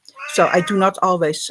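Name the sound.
cat meowing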